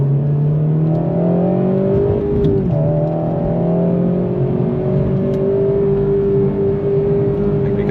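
A Honda Civic FG2's engine drones close and loud from inside the car on a highway, its pitch rising and falling through rev-matched gear changes, with no talking.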